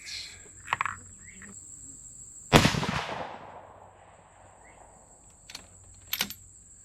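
A single sharp rifle shot from a 6mm Dasher cracks loudly outdoors and decays over about a second, with a few faint clicks before and after and insects chirping in the background.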